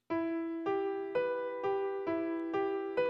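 A piano plays a broken-chord arpeggio, striking single notes one at a time from the bottom of the chord upward in an even, moderate rhythm, each note ringing clearly and alone.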